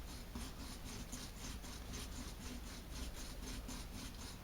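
Sandpaper rubs over a bass guitar body being worked straight, a quiet rhythmic scratching in quick regular back-and-forth strokes, steady throughout with no voices.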